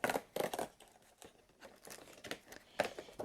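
Paper wrapping around an advent calendar gift crinkles and tears in quick, close bursts of rustling and ripping, with short pauses between handfuls, quiet and alone.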